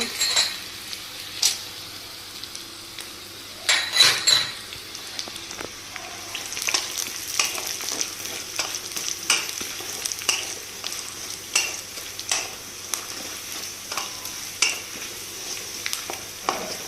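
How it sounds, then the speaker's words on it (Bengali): Peanuts frying in a pan with lightly fried onions, a soft steady sizzle under repeated clinks and scrapes of a spoon against the pan, with a louder clatter early on and no voices. "একটু হালকা পেঁয়াজটা ভেজে নেবার পরে আমি এর মধ্যে বাদাম ঢেলে দেব"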